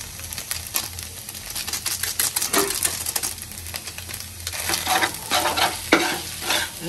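Noodles frying in a pan as masala spice mix is stirred through them, a steady sizzle broken by repeated scraping stirs and clatter, close and fairly loud, with no talking.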